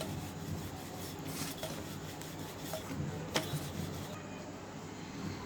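A rolling pin works paneer kulcha dough on a dusted surface, giving a steady soft rasping, rubbing sound that continues throughout without pause, close and fairly quiet, with no voices.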